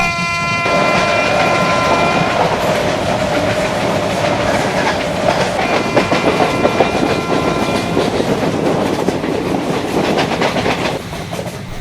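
A Mumbai suburban commuter train rumbles loudly and steadily with rhythmic clattering of wheels on track, a horn sounding early on, no voices.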